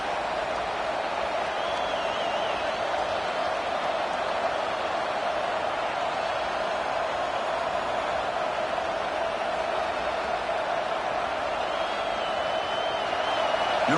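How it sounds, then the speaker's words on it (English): A loud, steady roar from a packed stadium crowd at a football game, with a dense, continuous wash of noise holding at a constant level throughout. "listen to this crowd noise. This stadium is vibrating."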